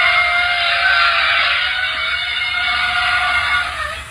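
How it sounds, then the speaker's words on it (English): A steady, loud mechanical hum of drones fills the sky, a continuous droning whir with a fixed whining tone that holds evenly before easing slightly at the end. "then you will hear the hum of drones in the sky"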